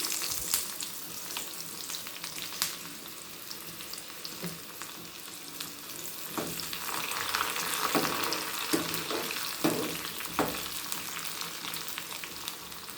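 Mustard seeds and chopped garlic spluttering in hot oil for a tempering, a steady close sizzle with scattered sharp pops and crackles building through the middle, no voices.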